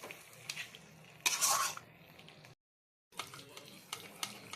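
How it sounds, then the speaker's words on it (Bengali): Chicken curry stirred in a wok once its liquid has dried off, giving a few scraping, clattering bursts with one loud stretch early on, a short silent gap, then more light scrapes. "এবার একটু নেড়ে চেড়ে নামিয়ে নেওয়া হবে।"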